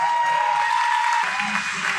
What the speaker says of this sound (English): Please give that man an applause.